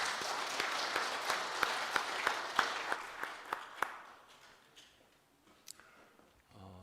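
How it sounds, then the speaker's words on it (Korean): A church congregation at an Easter Sunday service claps together in a rhythmic, evenly spaced beat, the claps loud at first, then tapering off into a quiet room with a few stray sounds. "우리 하나님께 또 감사와 영광의 박수 한번 올리겠습니다"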